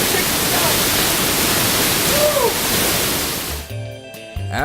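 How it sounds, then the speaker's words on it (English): Roaring broadband rush of the large Pailón del Diablo waterfall in Ecuador, loud and steady nearby, cutting off near the end into brief voices and other sounds. "I'm standing here below one of the largest freaking waterfalls in the whole country of Ecuador."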